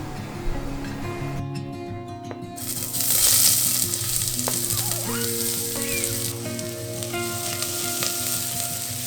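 Avocado oil and sweet onion fry in a hot pan, giving a loud, steady, close sizzle that swells after a few seconds and carries on evenly, with faint background tones and no speech.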